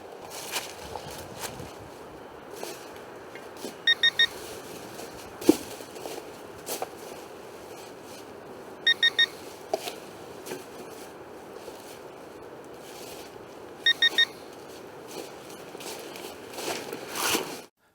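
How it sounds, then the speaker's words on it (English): A Garrett Pro Pointer AT pinpointer, left on without a button press, gives its warning alarm: a quick triple of high electronic chirps, repeated about every five seconds and clear above a soft, steady background hiss. "the ProPointer AT will begin emitting warning chirps after 5 minutes of being on without a button"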